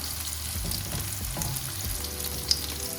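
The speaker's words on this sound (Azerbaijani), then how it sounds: "İndi badımcanları belə qızardıram." Eggplants fry in a hot pan, giving a steady close sizzle with soft stirring clatter throughout and one sharp tap near the end.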